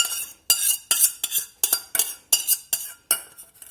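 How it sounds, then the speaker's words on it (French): A spoon scrapes Carambar caramel tart filling from a dish in about ten quick, rhythmic strokes, each a bright, close scrape with slight clinks against the dish. "on va racler un petit peu et je m'en laisse une cuillère par plaisir"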